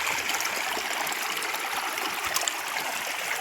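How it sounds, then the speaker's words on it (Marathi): Water pours in a steady stream through holes punched in a tin at a village site, giving a continuous rushing trickle and splash that is moderately near and even in level, with no talking. "ती पा पाण्याची धार त्याच्यामध्ये पडते"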